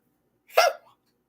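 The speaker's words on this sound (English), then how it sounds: "I just got hiccups." A single short hiccup, close and fairly loud, stands alone in silence.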